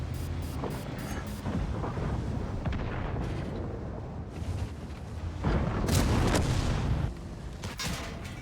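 Booming tank cannon fire and rumbling explosions echo through an armored combat video game, with heavy blasts landing over a continuous low battlefield roar.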